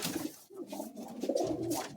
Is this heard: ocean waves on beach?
no